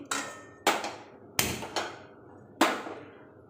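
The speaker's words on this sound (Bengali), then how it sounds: "আমি শিলনোড়াতে বেটে নেব" Three green chillies crushed on a stone grinding slab give five sharp, separate knocks, each stone-on-stone strike close and solid with a short ringing tail.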